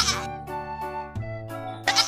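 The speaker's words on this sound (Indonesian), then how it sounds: "ternyata ini hewan kambing" A goat bleats several times in quick succession: drawn-out nasal, wavering calls with short gaps between them, close and clear, with no talking.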